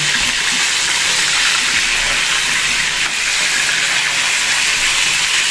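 Pointed gourd (potol) fries in a pan with salt, giving off a dense, even hiss and crackle that holds steady and close throughout, with no talk over it.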